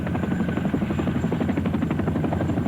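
A Chinook helicopter landing, its heavy tandem rotor chop thudding steadily and close, a continuous rhythmic pulsing with an engine whine above it.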